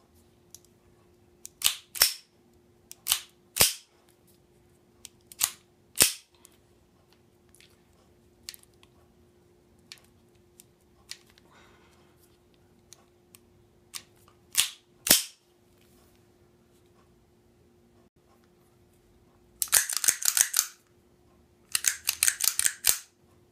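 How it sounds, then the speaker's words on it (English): Taurus PT22 and Beretta 21A Bobcat pistols have their slides racked, giving sharp, close metallic clacks scattered singly across the stretch, then two dense bursts of rapid clicking near the end, with no talk. "really difficult to rack the slide"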